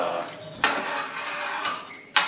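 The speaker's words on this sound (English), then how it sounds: "let's go ahead and add the liquid malt extract. And make sure you stir it constantly" A spoon stirs liquid malt extract into a boiling brew kettle while making a Belgian caramel wit ale, with a continuous bubbling boil, a few sharp metallic clinks against the pot and some nearby voice.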